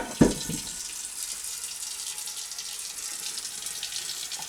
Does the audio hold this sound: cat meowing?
no